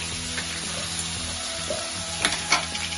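Raw prawns with turmeric fry in hot oil in a pan, giving a continuous close sizzle broken by a few sharp clinks near the end.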